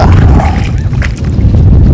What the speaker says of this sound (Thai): วันนี้ลมแรงมาก เลย